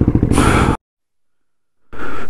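Heavy, laboured breaths come from a rider after handling a motorbike at a high mountain pass, loud and close: a rough exhale, then abrupt silence, then another breath starting.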